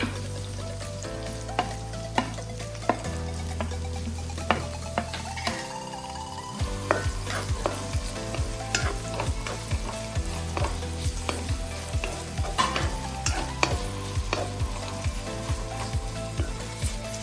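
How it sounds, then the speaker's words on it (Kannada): Sliced onion sizzles in hot oil while being stirred in a pan for Karnataka-style spicy mutton pepper dry, with a constant frying hiss and regular sharp scrapes and taps of a spoon against the pan, close up and without speech. "ಇವಾಗ ಈರುಳ್ಳಿ ಹಾಕ್ತಾ ಇದ್ದೀನಿ."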